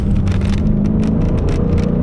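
A Dodge Challenger Widebody Scat Pack 392 corners on a track, its engine a loud, steady low drone with tyre and wind roar close by.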